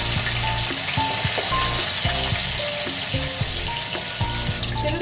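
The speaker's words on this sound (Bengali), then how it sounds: "এবার আমি এক এক করে মাছগুলো দিয়ে ভেজে নেব।" Pieces of katla fish fry in a hot kadai with a good amount of oil, giving a constant, dense sizzle over soft background music.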